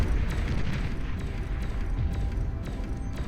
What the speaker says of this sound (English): Watching the Tsar fire its cannon away.